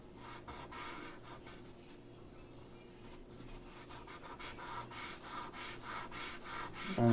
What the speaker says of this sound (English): rubbing it with my finger to blend it a little